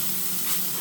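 A butcher's beef hamburger patty, just flipped, sizzles loudly in a pan. The hiss is dense, steady and close for a brief moment.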